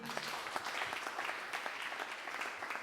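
A church congregation claps in a steady, dense burst of applause that runs the whole length, even and moderately distant.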